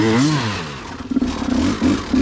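A 300cc two-stroke hard-enduro motorcycle engine revs up with a rising pitch, then drops into a rough, burbling, uneven idle with crackling, close and loud.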